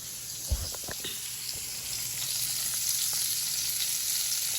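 Smoked fish (tinapa) sizzles in hot oil, a steady bright hiss that builds slightly, with a few soft knocks and pops near the start.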